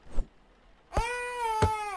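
A cat in a video game gives two loud, close meows, a short chirp followed by a longer drawn-out wailing meow, separated by brief quiet.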